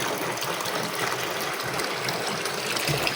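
Rainwater pours and gushes steadily into a container in a bathroom, collected for flushing the toilet, a continuous close splashing flow without talk.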